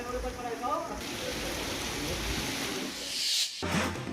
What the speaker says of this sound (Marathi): वाशिम जिल्ह्यात वादळी वाऱ्यासह मुसळधार पाऊस